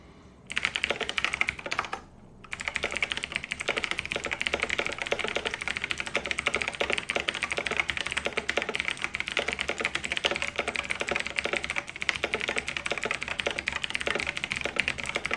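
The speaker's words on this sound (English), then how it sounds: "I'm gonna do a typing test." Rapid, steady clatter of keys on a computer keyboard during a timed typing test, close and continuous with only a brief pause near the start and no talking.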